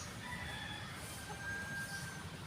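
Desi hens on a poultry farm cluck faintly and steadily, with occasional higher calls, under a soft, constant background hiss.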